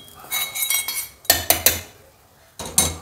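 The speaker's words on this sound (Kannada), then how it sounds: "ತಣ್ಣಗಾಗಿದೆ, ಮಿಕ್ಸಿ ಜಾರಿಗೆ ಹಾಕ್ತಾ ಇದ್ದೀನಿ ಮಸಾಲ ಪದಾರ್ಥಗಳು ಉರಿದಿರೋದನ್ನ" Roasted masala ingredients for chicken gravy are tipped into a mixer jar, producing bursts of close metallic clinks and rattles in several quick groups separated by brief pauses.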